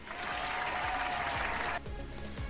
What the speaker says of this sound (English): Those are virtual claps.